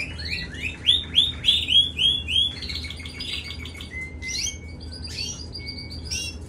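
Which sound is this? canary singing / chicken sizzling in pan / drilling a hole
canary singing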